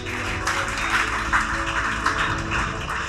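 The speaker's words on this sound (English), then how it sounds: "Ladies, cheer now." Women in the audience at a security company's award ceremony in Guyana clap and cheer together, a dense, sustained burst of applause with no speech.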